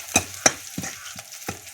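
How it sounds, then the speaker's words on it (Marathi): Green chillies and crushed garlic tempered in hot oil for a home-style dal tadka, sizzling with a soft hiss under several sharp knocks and scrapes of stirring, close and alone without talk. "हिरवी सुद्धा चांगली अशी करपटवून घ्यायची याच्यात आणि ठेसलेला लसूण वा फोडणी"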